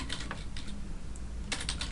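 Typing on a computer keyboard while building a Weebly web page, with two bursts of rapid, close key clicks separated by a brief pause, no talking.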